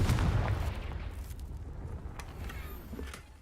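A Confringo spell blast in Hogwarts Legacy lands as a heavy booming burst that decays into a rumbling tail, with a few faint crackles after.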